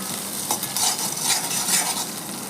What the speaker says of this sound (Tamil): 2 பெரிய வெங்காயம் அதையும் நல்லா வதக்கிக்கலாம்.